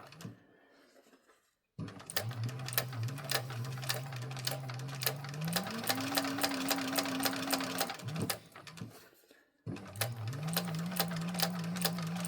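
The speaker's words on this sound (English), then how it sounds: "we're just staying the stitches, giving them another line of support" A sewing machine stitching thick fabric for a pouch, running in two bursts of rapid rhythmic needle clatter with a rising motor whine, pausing briefly between them, close and clear.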